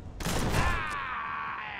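Gunfire in the video game Mutant Year Zero: Road to Eden, a short, faint burst of shots with a ringing, fading electronic tail.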